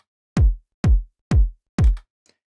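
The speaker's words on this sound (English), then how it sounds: "So I found this drum loop." A minimal house drum loop from Splice plays four deep, punchy kick hits evenly spaced about half a second apart, loud and dry, followed by a faint tick at the end.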